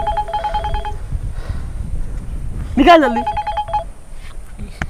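Mobile phone ringing with a repeating electronic tone pattern, close by, while voices talk and shout over it.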